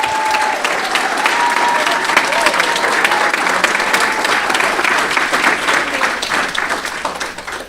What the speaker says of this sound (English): Would you please give them a nice LRSD round of applause as they arrive?